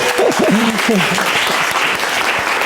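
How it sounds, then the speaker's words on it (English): Applause from an audience at an open science event, dense clapping throughout the short stretch with a voice speaking over it near the start. "Let's do an applause for Noemi"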